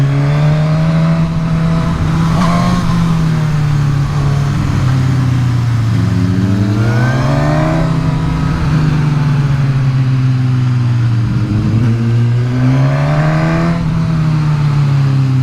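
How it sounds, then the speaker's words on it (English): Suzuki Katana motorcycle pulling hard in second gear, the engine note climbing and dropping through repeated loud rising sweeps for the whole stretch, with no talk over it. "Whoa, he's taking off. Finally, we're getting the pace picked up a little bit."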